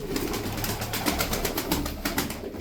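Pigeons coo in soft, repeated throaty rolls close by, a steady run of calls with no talking.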